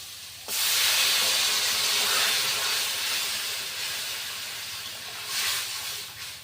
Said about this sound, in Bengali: তো তরকারিটা কিন্তু ফুটছে